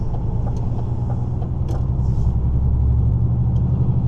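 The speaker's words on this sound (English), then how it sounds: "Oh, one truck." A truck on the road passes close by in winter, a loud, steady low engine rumble and drone that holds and slightly swells over a few seconds, with no talking.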